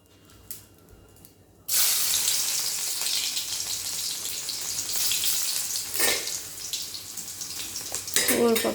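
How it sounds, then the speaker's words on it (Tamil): Chopped garlic starts sizzling loudly in a little oil in a pan partway through, a steady bright crackle with brief spatter bursts and no talking. "இப்போ பூண்டு நல்லா வதக்கியாச்சு."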